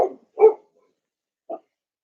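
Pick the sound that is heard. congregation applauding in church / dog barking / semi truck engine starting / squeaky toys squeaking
dog barking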